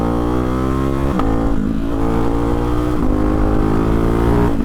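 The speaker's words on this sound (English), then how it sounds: "Downshift, listen. Downshift, listen." A Hyper 698 motorcycle fitted with an S1 exhaust roars loud and close as it downshifts, its engine note sliding down, then blipping sharply with crackling bursts at each gear change.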